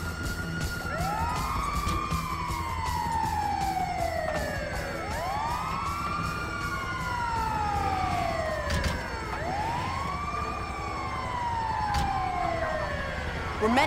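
A wailing ambulance siren in Grand Theft Auto V sweeps up and down repeatedly, loud and steady, with rumbling traffic noise underneath.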